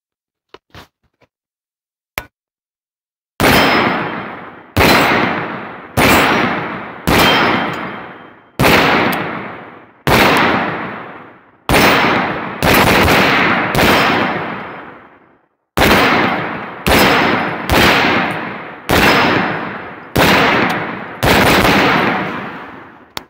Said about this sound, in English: So let's go ahead and shoot this one a little bit and have some fun with it.